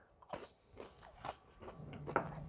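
Crisp bites and crunchy chewing of crinkle-cut Ore-Ida French fries cooked in a Ninja Foodi air fryer toaster oven, several separate close crunches in an irregular rhythm, fairly quiet and with no talk.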